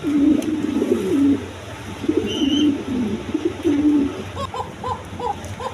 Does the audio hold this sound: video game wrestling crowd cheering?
no